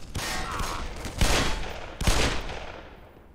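Rapid gunfire from the video game Black Mesa, with loud booming shots and reverberant bursts over constant battle noise.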